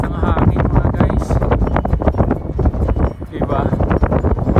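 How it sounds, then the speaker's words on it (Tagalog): Strong wind batters the microphone on the Macau–Taipa (Carvalho) bridge, a constant loud roaring buffet with gusty swells throughout. "basta nga hangin"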